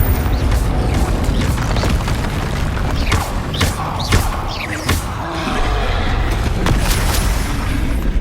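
Confringo blasting spells from Hogwarts Legacy on PS5 explode in a string of deep booms and sharp thuds amid continuous battle noise, loud and close, with no voices.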